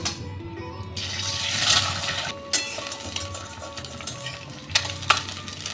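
One egg drops into very hot oil in a wok and bursts into a sizzle that hisses steadily, broken by a few scraping clatters of a utensil.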